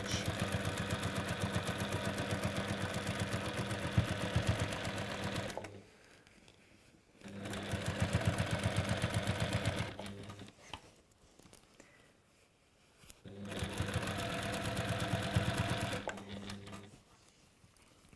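A sewing machine with an edge guide foot runs in three steady bursts of stitching, separated by short quiet pauses while the fabric is repositioned; close and fairly loud, with no talking.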